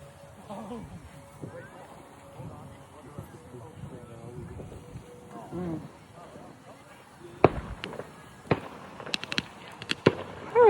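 Homemade fireworks go off outdoors, a run of sharp cracks and pops bunched toward the end after a quieter stretch with background talk.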